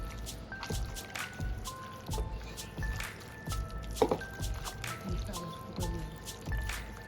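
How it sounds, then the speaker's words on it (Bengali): Raw mutton is hand-mixed with salt, mutton masala and garam masala, making soft, wet squelches and sticky squishes at an irregular rhythm, close and fairly quiet. "এবার এটাকে আরেকবার মেখে নেব ভালো করে।"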